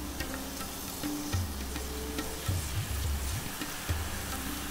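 Chopped ginger and garlic frying in a cast iron pot, a soft steady sizzle with occasional stirring clicks and scrapes, faint and close.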